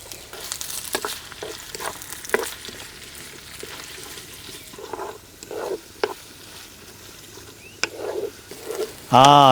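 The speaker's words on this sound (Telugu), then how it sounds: "పచ్చిమిరపకాయలు వేసుకున్న ఒక నిమిషానికి ఉల్లిపాయలు కూడా వేసేసుకొని బ్రౌన్ కలర్ వచ్చే వరకు వేయించుకుందాం" Green chillies and onions frying in oil in a pot for a chukka kura chicken curry, a low crackling sizzle broken by repeated sharp clinks and scrapes of a spoon stirring, with a loud clatter at the close.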